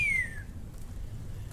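An audiobook reader imitates a slow whistle, a single thin falling tone that glides downward and fades within half a second over quiet background.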